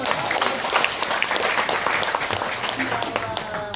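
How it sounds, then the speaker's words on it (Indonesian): Audience at a regional leaders' gathering in Yogyakarta claps in a sustained, moderately dense burst, with some voices and background sounds mixed in. "Tepuk tangan lagi."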